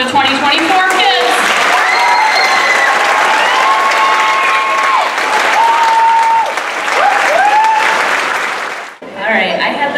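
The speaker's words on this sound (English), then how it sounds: "How about one more big round of applause for 2024 kids?" Audience applause fills a fifth-grade moving-up ceremony at a school, a loud, steady wash of clapping that holds for most of the stretch, with whistles and cheers rising above it, then cutting off abruptly near the end.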